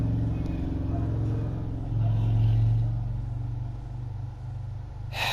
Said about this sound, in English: Fucking bike riders near my house.